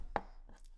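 An onion smashed on a cutting board for chicken broth, one sharp thud close up followed by a softer knock, with no talking.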